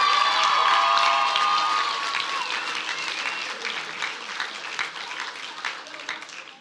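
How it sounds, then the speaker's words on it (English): Loud applause and cheering fill a swim season awards gathering, opening with shrill whoops and whistles and settling into dense, steady clapping from the audience. "let's give a huge round of applause to Judy Wright"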